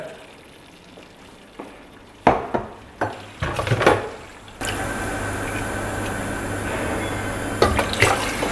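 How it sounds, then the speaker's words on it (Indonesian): Water poured into a pan of sautéed laksa spice paste, a few knocks and clatters at first, then a strong continuous pouring and bubbling hiss that holds steady to the end. "Nah ini kita akan isi air dulu ya."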